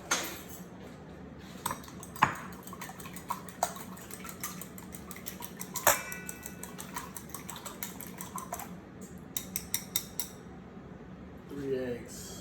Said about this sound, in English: Beat up your egg.